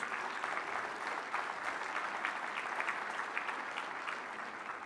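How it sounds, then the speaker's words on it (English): A conference audience claps for the event sponsors, dense steady applause from many hands lasting the whole stretch at moderate volume, with no voices on top. "Round of applause for our sponsors."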